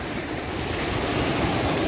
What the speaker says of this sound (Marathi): समुद्राची लाट बघा